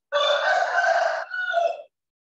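A rooster crows once, close and loud, a long strained call that breaks briefly before a final drawn-out note, then silence.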